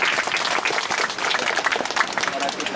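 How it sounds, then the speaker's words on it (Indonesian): A church congregation claps steadily in a dense burst of applause, close and loud, with voices mixed in under it. "kita beri tepuk tangan dulu"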